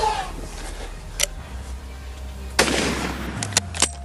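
Rifle shots during an elephant hunt in Africa, several sharp, loud cracks spaced irregularly over a low rumbling outdoor background, with brief speech early on.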